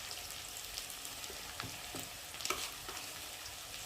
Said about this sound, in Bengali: আলুগুলোকে একটু নেড়ে ভালো করে ভেজে নেব।